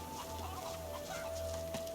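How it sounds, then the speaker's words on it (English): Chickens cluck softly in a fantasy role-playing game, Divinity Original Sin II, brief low clucks over a steady ambient hum with a faint held tone running through. "Got some chickens."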